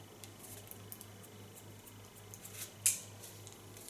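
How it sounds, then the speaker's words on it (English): Scissors snip through fine hair during a haircut, soft close clicks with one sharper snip, quiet with a low hum underneath and no talking. "just go to the end of the hairs and gently cut it"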